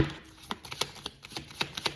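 Soft, quick card riffles and taps repeating in an uneven rhythm, close and quiet.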